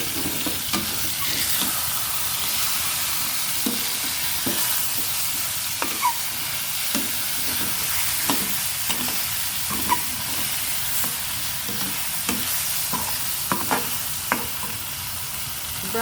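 Chicken pieces browning in a pan for curry, with a steady close sizzle running throughout and frequent sharp scrapes and clinks as the pieces are stirred and turned.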